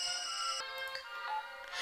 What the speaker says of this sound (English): Oh, hold on, dear. Phone call.